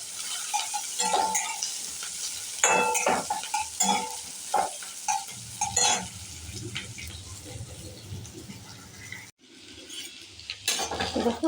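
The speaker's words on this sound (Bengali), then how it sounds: "পেঁয়াজটা হালকা করে ভেজে নিচ্ছি।" Onion fries lightly in a pan with eggplant and potato nearby, a continuous close sizzle broken by repeated stirring scrapes and utensil clinks against the metal.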